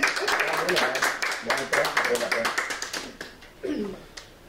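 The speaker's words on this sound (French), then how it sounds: "Ça vaut la peine de l'applaudir, hein?" A small group claps at a town council meeting in Valcourt, scattered individual hand claps in an uneven rhythm that thin out toward the end, with a few voices heard briefly.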